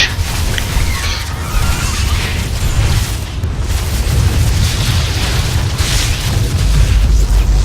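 A chamber is destroyed in StarCraft II: Heart of the Swarm, setting off a loud, sustained explosive boom and rumble that rolls on for several seconds.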